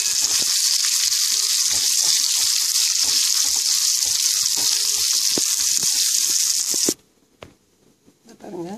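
Hot oil tempering for toor dal idli batter sizzles loudly and steadily up close for about seven seconds, then cuts off abruptly, leaving near quiet with a faint trailing voice.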